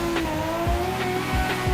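Drift car engine and squealing tires in the Assetto Corsa racing game, a loud sustained engine note with rising revs and repeated sharp tire squeals, close and with no talking.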